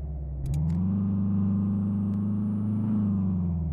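VW Scirocco mod driven through city streets in Euro Truck Simulator, a steady loud engine drone that rises slightly as it accelerates and eases off, with a faint hiss at the start.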